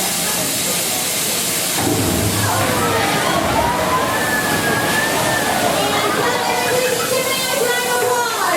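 Rushing, sloshing water floods a set on a studio backlot tour at Catastrophe Canyon, Disney's Hollywood Studios, a loud, steady wash of spray and hiss running throughout, with a low rumble near the start.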